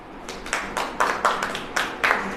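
A church congregation claps hands together in a steady rhythm, about eight sharp group claps at an even pace, moderately loud in a reverberant hall, with no speech over them.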